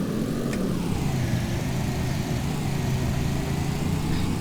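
A car engine droning while driving in The Long Drive, a steady mid-pitched hum with a slowly shifting tone, loud and continuous with no voices.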